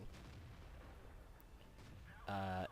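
A tank gun in the World of Tanks video game fires once near the end, a single loud booming shot with ringing tones, after a stretch of steady low engine rumble and battle noise.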